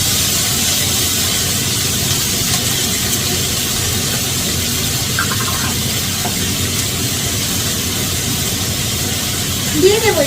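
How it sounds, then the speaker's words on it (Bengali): Small prawns fry in a pan while being prepared for a bottle gourd ghonto, giving a continuous, loud, close sizzling hiss that stays steady throughout. "এটা লাউ দিয়ে ঘন্ট হবে, তার জন্য আমি চিংড়ি মাছটা একটু ভেজে নেব।"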